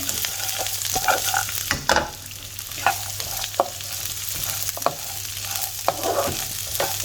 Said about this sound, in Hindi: मैं इनको ब्राउन कर लूँगी हल्की आंच पे। बहुत अच्छी तरह टोस्ट करूँगी, इनको रोस्ट करूँगी।